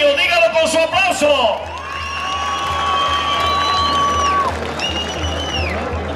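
Crowd at a jaripeo at Rancho Las Cubatas in Santiago Azajo, Morelos, breaks into cheers, whoops and clapping; whistles ring out over the noise, and a low steady hum runs beneath.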